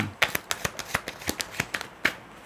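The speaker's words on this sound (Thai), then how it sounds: "อาจารย์ทำไพ่ตก" Tarot cards dropped and scattering, a rapid series of about a dozen light, crisp slaps and flutters, close and fairly clear, with a final louder card hit near the end.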